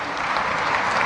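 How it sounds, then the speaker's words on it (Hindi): Dense, continuous audience applause for an award recipient at a women's day ceremony, a brief unbroken wash of clapping. "जोरदार तालियां बजनी चाहिए।"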